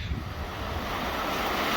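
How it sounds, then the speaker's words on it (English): A rainstorm pours down outdoors in a brief, steady wash of broad roaring noise, loud and continuous with no distinct drops standing out. "Rainstorm number 3."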